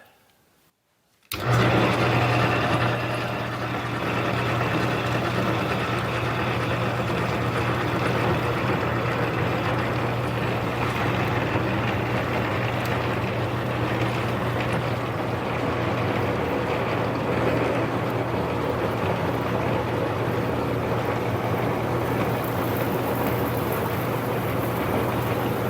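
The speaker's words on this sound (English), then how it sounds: "I'm cutting a full diameter with my drill." A Delta drill press runs steadily while cutting a full diameter hole, a loud continuous motor hum and grinding drone that starts abruptly and holds for the whole stretch, with no talk.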